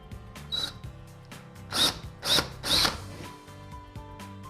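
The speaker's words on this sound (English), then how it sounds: "I'm using a 1/4" drill bit." A power drill with a 1/4-inch bit whirs in three loud bursts, grinding into a wall, with quieter mechanical noise between runs.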